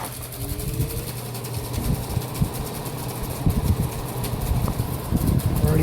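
A Haier 5,000 BTU window air conditioner, made in China, running in a hot upstairs room, giving a steady low mechanical hum with a faint rattle, with a voice speaking over it.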